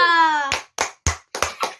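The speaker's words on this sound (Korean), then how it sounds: "요즘 박수만 많이 치는 것 같아" A sustained tonal sound gives way to five sharp hand claps in an uneven rhythm, close and fairly loud, during a toy unboxing of a Ghost Ball dark cube and a combining ghost deluxe set.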